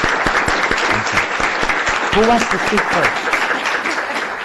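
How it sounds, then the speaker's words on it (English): Attendees at a Pima County Board of Supervisors meeting give a brisk round of applause, a dense patter of hand claps filling the room while someone speaks briefly over it. "Please give them a nice round of applause."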